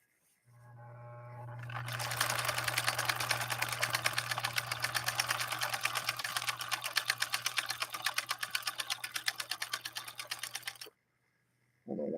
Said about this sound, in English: This is a heck of a stitch to lay down on velvet.